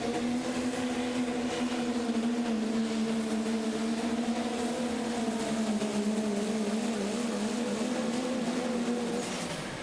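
A Dodge pro stock diesel pulling truck makes its run at a truck pull in Terre Haute, Indiana, its engine roaring loud and sustained throughout, with a droning, slightly wavering note and no pauses.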